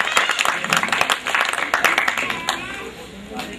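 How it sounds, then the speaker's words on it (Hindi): An audience claps to welcome a guest being garlanded at a seminar honouring Rajiv Gandhi. The applause is dense and brisk, lasts a few seconds and stays moderately loud before easing slightly toward the end. "आप तालियों से इस्तकबाल करें"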